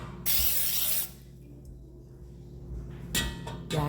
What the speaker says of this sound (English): Now I'm gonna go ahead and spray my pans.